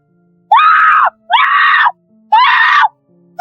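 A woman lets out three long, loud, terrified screams for help in a horror film scene after falling through a sinkhole into a pool, with brief pauses and faint low background between them.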